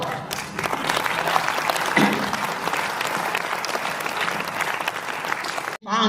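Loud, sustained audience clapping at a Hindi poetry gathering, a kavi sammelan, filling the room evenly before cutting off abruptly near the end.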